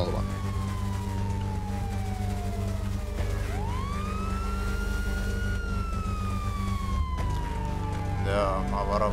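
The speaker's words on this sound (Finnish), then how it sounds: "täällä soi sireenit" Police sirens wailing in a GTA roleplay game, a loud continuous siren sweeping slowly down and back up, then shifting to a rapid yelp near the end over a constant engine rumble.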